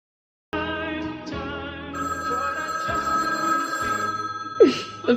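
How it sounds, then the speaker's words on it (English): A telephone rings indoors in a drama scene, its bell-like tone sounding in repeated bursts over soft background music, fairly close and clear with no talk over it. "The phone's ringing."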